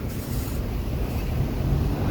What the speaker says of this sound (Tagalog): gawa ng lakas ng hangin